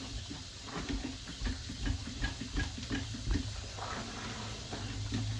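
Pinol and bleach cleaning solution being mixed, a continuous close sloshing and pattering of liquid with soft irregular splashes and knocks.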